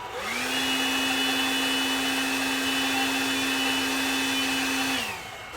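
A Milwaukee M12 cordless spot blower spins up and blows air in a steady, loud whooshing roar with a constant high whine for about five seconds, then winds down at the end.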